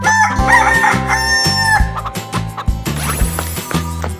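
A cartoon chicken in a 3D animal slide game clucks and crows, loud and close, over a steady backing music track with no talking.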